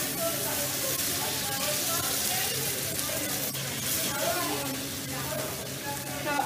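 Nasi goreng sauce sizzles in a hot pan as it cooks down, a steady broad hiss running throughout beneath a voice talking over it.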